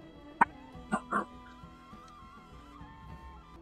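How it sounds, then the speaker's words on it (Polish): A small dog barks indoors: one sharp yip followed by two quick barks, then quieter whimpering over a steady background music hum, heard from moderately close. "mój piesio zaczął szczekać"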